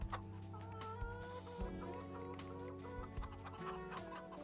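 Chickens cluck in Farming Simulator 25, several birds close by giving short repeated clucks over a steady low game hum, with no talking.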